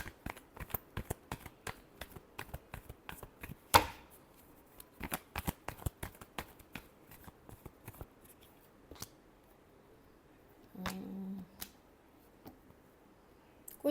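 Tarot cards being shuffled by hand in repeated quick riffles and flicks, close and crisp, with a short pause and a faint low hum near the end.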